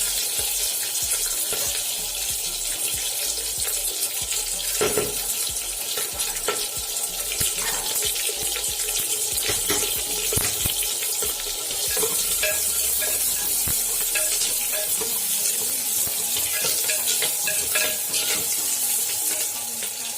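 Onion, curry leaves, green chillies and dried red chilli frying in oil with popped mustard seeds in a clay pot, a steady broad sizzle with scattered crackles and occasional stirring knocks throughout, close and fairly loud, no talking.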